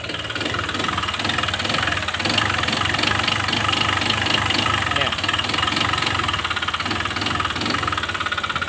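Honda Click 125 scooter engine with a worn connecting rod, running and revved briefly during a knock test, a busy mechanical clatter over a steady idle hum, close up, with someone talking throughout.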